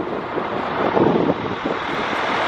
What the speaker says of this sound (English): A little more windy out here than I thought it would be.